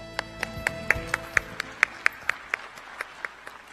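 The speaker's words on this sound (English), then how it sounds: "please welcome him with a big round of applause" Steady, evenly spaced claps ring out in a quick unison rhythm over a low musical backing as an audience welcomes a speaker at the opening ceremony of the 2015 ICLEI world cities climate and environment congress in Seoul.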